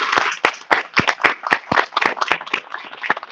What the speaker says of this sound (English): I would like you guys to all give a round of applause for our guests.